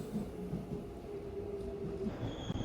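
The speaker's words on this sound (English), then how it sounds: "Here's the train." A train pulls into a station in Seoul with a low, steady rumble of rolling wheels and faint rail squeals, fairly close and continuous, with no voices over it.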